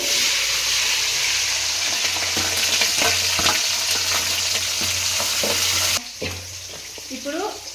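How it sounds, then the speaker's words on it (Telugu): Green chilies fry loudly in a pan of hot oil with a steady, dense crackle and repeated stirring scrapes, until the sizzle drops away sharply near the end. "ఇప్పుడు పచ్చిమిర్చి అయితే వేస్తున్నానండి"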